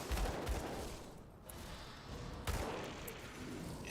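A boss in the action RPG Grim Dawn shooting fire, heard as rumbling, crackling blasts in two bursts with a lull between, fairly quiet and without talk.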